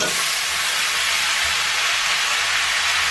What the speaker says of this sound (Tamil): இதை ஆட் பண்ணி நல்லா வதக்கலாம்